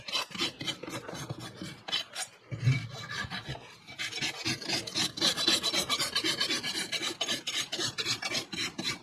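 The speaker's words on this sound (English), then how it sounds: "a little high there, we'll rasp it flat" Farrier's rasp filing a horse's hoof to flatten a high spot, with rapid rhythmic scraping strokes, a brief pause, then sustained close-up rasping that grows steadier and louder, no voices.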